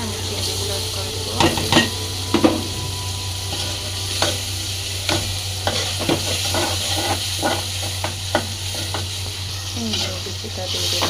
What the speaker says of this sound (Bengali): এরকম তেলটা হয়ে গেলে আমি চিংড়িগুলো অ্যাড করে দেবো।